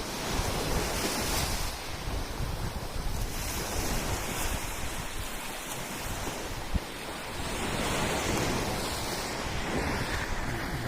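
Ocean surf washing steadily onto a beach in Oman, a continuous loud roar of breaking waves mixed with wind buffeting the microphone, no voices.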